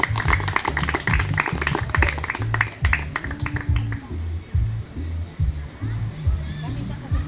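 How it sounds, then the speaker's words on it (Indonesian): A Sunday school Christmas gathering in Kemiri claps for Raja, with rhythmic group clapping near and loud that fades after a few seconds into quieter room noise and scattered chatter. "Tepuk tangan buat Raja."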